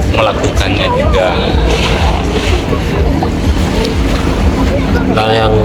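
Sea waves at Pandanan Beach rush and roll in a loud, continuous surf roar with strong wind buffeting the microphone, while voices talk over it.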